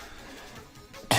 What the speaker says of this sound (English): Got a bit of a cough there